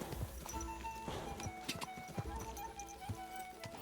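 A horse gallops with steady clip-clop hoofbeats in a video game, its rhythmic thuds loud and close, with a brief whinny and game effects layered over the run.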